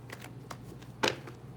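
Playing cards are shuffled in a few quick riffling bursts, with one sharper, louder flutter near the end, close and quiet otherwise.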